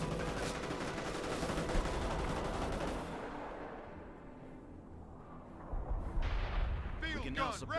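Heavy artillery barrage in the World War II strategy game Company of Heroes: a dense, continuous roar of booming impacts and gunfire that eases slightly, then flares again with sharp blasts near the end.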